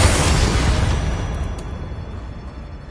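A Bombarda blasting spell explodes in Hogwarts Legacy, a loud booming blast up close that decays into a rumbling, crackling tail over a few seconds, with no talk.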